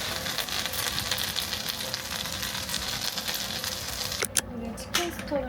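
Rice frying and sizzling steadily in a pan while it is stirred, a continuous close hiss with a few brief clinks near the end.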